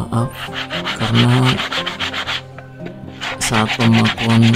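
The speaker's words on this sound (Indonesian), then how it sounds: "Selanjutnya kita amplas" Sandpaper worked by hand over a small wooden stool, a loud, close rasping rub in quick repeated strokes with a brief pause midway and no voices.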